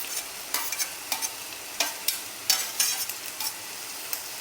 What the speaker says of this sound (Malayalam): ഇനി ഇത് നന്നായിട്ടൊന്ന് വഴറ്റിയെടുക്കാം